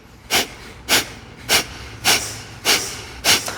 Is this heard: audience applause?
no